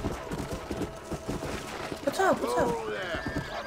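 A horse neighs sharply amid clip-clopping hooves while riding in Red Dead Redemption, the whinny rising clearly over steady game noise as a person talks throughout.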